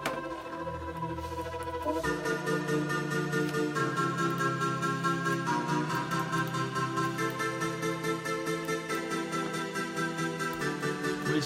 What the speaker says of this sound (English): And here comes the second synth.